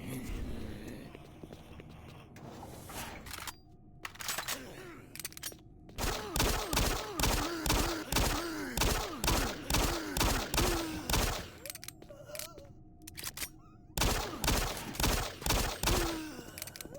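Shotgun blasts in the shooter video game Doom 3, a series of loud, evenly spaced booming shots fired in bursts with brief pauses between, close and dominant with no talking over them.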